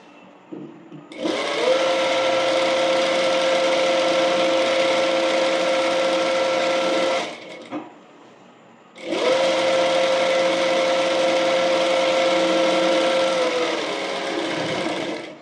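A sewing machine stitching umbrella frock pieces together runs in two long steady bursts of about six seconds each, loud and close, with a brief pause between them and no talking.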